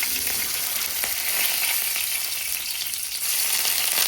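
Curry leaves dropped into hot oil already popping with fine mustard seeds, a dense continuous hiss and crackle, close and steady throughout with no voices.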